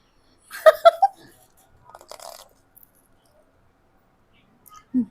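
Bites and chewing on a crispy hotdog: a burst of sharp crunchy crackles near the start, a second softer crunching patch, then quiet, with a brief voice at the end.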